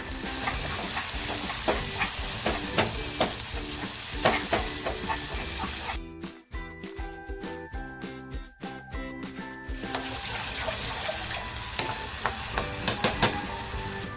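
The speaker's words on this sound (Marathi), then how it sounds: "कांदा थोडासा लालसर झालेला आहे" Red chili paste sizzles and fries loudly in a pan with onions, a dense crackling hiss with stirring scrapes, briefly dropping to a quieter patch in the middle before the sizzle returns.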